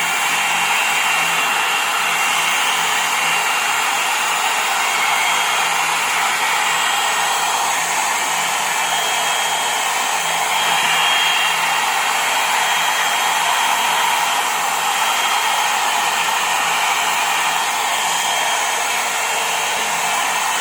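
Hair dryer blowing on its highest heat setting after a repair for a no-hot-air fault, a steady, loud, unbroken whoosh of fan and airflow that holds constant from start to end with no talk.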